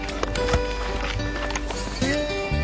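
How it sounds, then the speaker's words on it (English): Saddled horses for a covered wagon train in the Grand Tetons move about, with clip-clop hoof sounds, a short whinny-like call and snorting mixed into busy outdoor background noise. "Horses are saddled up."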